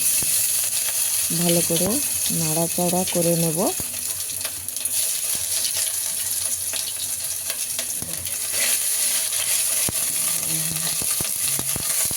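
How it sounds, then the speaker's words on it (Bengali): Dried red chillies, cumin and ginger fry in hot oil for a vegetable khichdi, a loud continuous sizzle with light clinks and stirring, and a brief tonal voice-like sound early on. "তেল ভালো করে গরম হয়ে গেছে শুকনো লঙ্কা দিয়ে দিলাম জিরে দিয়ে দিলাম আদা দিয়ে দেব"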